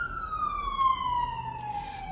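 An emergency vehicle siren passing by outside wails in a long, smoothly falling tone, moderately loud and slightly distant, over a low rumble of road traffic.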